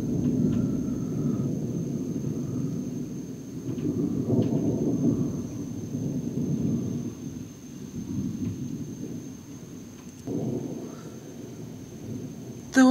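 Thunderstorm at night with deep rolling thunder swelling and fading over steady rain, fairly close and loud, no one talking.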